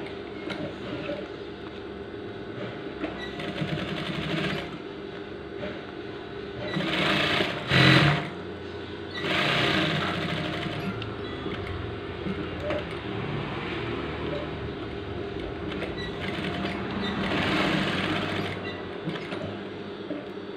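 A sewing machine stitches a PDH shirt collar with a steady, fairly quiet mechanical whir that runs throughout. It swells in a few louder bursts, and soft background noise sits underneath.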